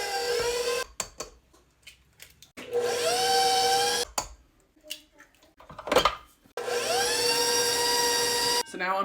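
An electric mixer beats eggs into chocolate buttermilk cake batter, its steady motor whine running in three long bursts separated by short pauses and faint clatter.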